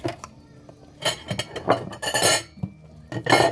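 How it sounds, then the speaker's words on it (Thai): Cooked rice reheated from the morning is scooped out of a pot, giving a run of clinks, scrapes and knocks of a utensil against the pot in uneven bursts, close and fairly loud. "เดี๋ยวบีขอตักก่อนแล้วกันถ้างั้นเนี่ย ตักก่อนตักก่อน"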